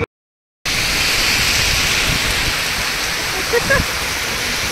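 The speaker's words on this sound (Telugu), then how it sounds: "మధ్యలో వర్షం స్టార్ట్ అయింది." Heavy rain pours down steadily during a car drive on a national highway, a continuous loud wash of noise that holds at one level throughout, with brief faint bumps and no talking.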